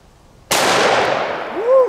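A Smith & Wesson Model 629 .44 Magnum fires an Underwood 245-grain full metal jacket round into a water fountain. One sharp, very loud shot is followed by a long, ringing decay.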